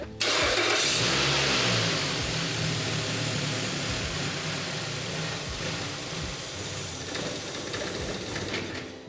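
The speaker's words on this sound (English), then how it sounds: "So let me show you what the car is doing, guys. I'm gonna try to start it." Car being cranked to start during a repair for a P0102 mass airflow sensor fault, a loud close-up engine that catches and then runs steadily and slightly rough, with no talking.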